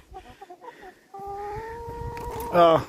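Healthy backyard chickens cluck in a short burst of soft, broken calls, then one bird holds a long, steady note, ending in a louder, harsher squawk close by; faint background noise but no talk.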